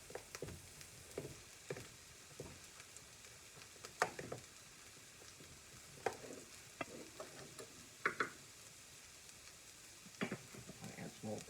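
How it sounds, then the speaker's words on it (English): A mixture with flour and leftover corned beef is stirred in a frying pan, giving quiet scattered scrapes and taps of a utensil against the pan over a soft sizzle, irregular and close, with no speech. "Mix that all together."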